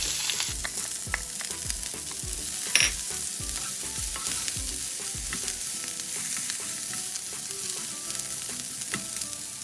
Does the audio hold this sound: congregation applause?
no